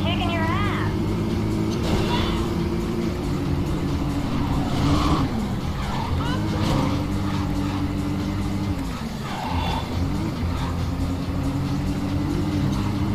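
A car in the racing video game Midnight Club 2 skids and slides with tyres squealing over a loud, steady engine drone, with several wavering swells as it drifts through the corners.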